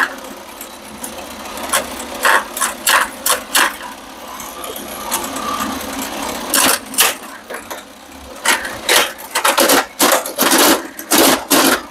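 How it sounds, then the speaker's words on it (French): Vintage Tomy Astro Shooter pinball toy whose noisy mechanism gives a steady mechanical whir broken by repeated sharp clacks and rattling bursts, close and fairly loud, with no talking. "le mécanisme, lui, il est bruyant"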